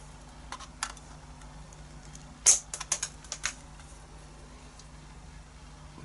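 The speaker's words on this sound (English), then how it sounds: "And we just snip off the excess." Wire cutters snip off the excess coil wire on a Gas Mods GR1 build, leaving a few sharp clicks close by against quiet background hum.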